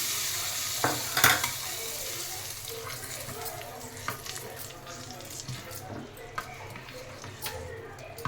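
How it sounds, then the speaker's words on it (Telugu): Hot tempering sizzles softly as it goes into a raw tomato and eggplant pulusu, a low crackling hiss with a few spoon clinks and scrapes from stirring. "ఇప్పుడు దీంట్లో తాలింపు వేసేసాను."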